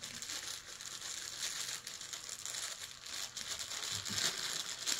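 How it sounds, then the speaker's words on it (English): Plastic snack packages of Crunchables crinkle and rustle as they are torn open, a continuous close, crackly rattling that swells slightly toward the end. "the rustling of the packages to obtain the Crunchables"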